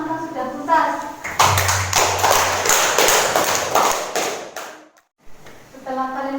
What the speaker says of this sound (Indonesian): Coba beri tepuk tangan untuk yang sudah tuntas.